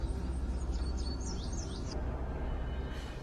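Birds sing in an open field, with a few bright chirping phrases heard clearly in the first two seconds over a low steady background rumble, then fading out.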